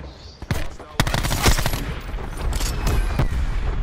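Rapid video game gunfire from a slot rifle in a hardcore team deathmatch, several loud sharp shots and bursts in quick irregular succession, close and punchy.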